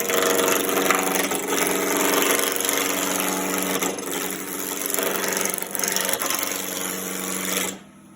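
A wood lathe spins spindle stock for a top while a roughing gouge rounds it, giving a loud continuous rough scraping hum with steady chatter that cuts off abruptly at the end.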